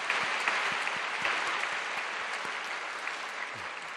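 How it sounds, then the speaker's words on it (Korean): A church congregation gives sustained, dense applause in thanks to God, an even, continuous roar of many hands clapping throughout. "오늘 은혜를 주신 하나님께 감사와 영광의 박수 올려드리겠습니다"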